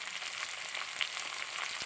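Salted onions fry in a pan, a steady close hiss of sizzling oil with faint scrapes of stirring underneath, for duck curry.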